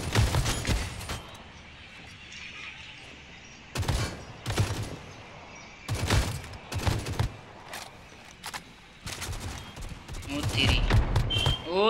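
Gunfire in an online shooting video game, separate loud bursts and volleys spaced a second or two apart, with someone talking in between.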